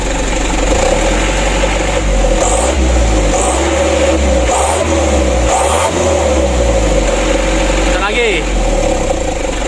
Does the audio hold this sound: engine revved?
yes